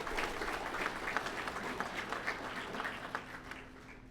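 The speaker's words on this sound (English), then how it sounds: "Another round of applause for our sophomores with perfect attendance" An audience claps for sophomores at a high school underclass awards ceremony: moderately distant, even applause with scattered individual claps standing out, thinning slightly toward the end, no speech on top.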